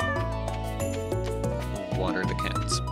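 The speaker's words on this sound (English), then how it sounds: "Pat the cat." Cat in Stardew Valley meowing when patted, with short mews layered over steady harmonic background music from the game.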